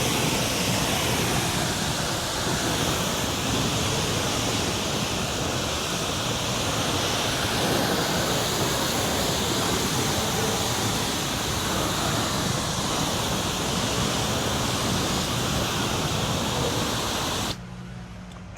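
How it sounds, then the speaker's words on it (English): A pressure washer with a fan tip nozzle rinses oxalic acid off a mahogany deck outdoors, giving a steady, broad hissing spray of water that continues unbroken for about seventeen seconds before dropping away. "I'm gonna go ahead and rinse this oxalic acid off this deck."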